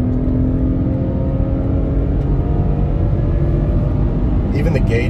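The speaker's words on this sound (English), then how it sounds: "So as soon as I put it in sport mode, my throttle response picked up big time." A 2021 Lexus RX350 F Sport engine in sport mode climbs uphill under throttle with a steady, loud rumbling drone heard from inside the cabin, while a person talks over it.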